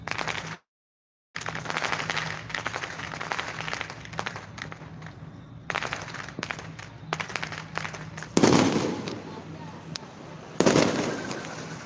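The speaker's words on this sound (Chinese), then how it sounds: "鞭炮声，鞭炮声。" Strings of firecrackers crackle and pop continuously through a temple procession in Yanshui, Taiwan, with louder close bursts near the end and voices talking in the crowd.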